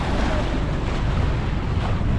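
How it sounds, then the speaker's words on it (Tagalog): Big ocean waves churn around a boat at sea, a steady, loud wash of water mixed with heavy wind buffeting the microphone throughout. "Kaya pala naman malalaki ang alon ngayon"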